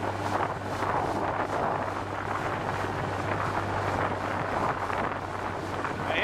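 Small boat motor idling and running on the water near a dock, a steady low drone heard alone under heavy wind buffeting the microphone.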